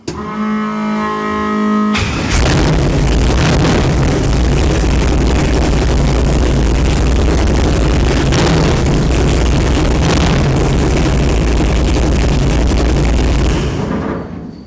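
A 1949 Chevrolet Gasser engine roars loudly and steadily under throttle after a brief idle, with its heavy rumble holding at high volume for over ten seconds before dropping off.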